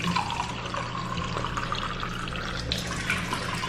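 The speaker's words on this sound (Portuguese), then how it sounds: "Vou pegar esse copo aqui mesmo. Vou encher de água." Water runs steadily from a tap into a glass, a constant close splashing flow with no voices.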